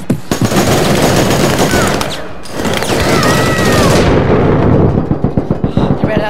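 Loud, close gunfire in the online shooter APB Reloaded: sustained automatic bursts, a brief lull, then more rapid fire ending in a string of distinct single shots.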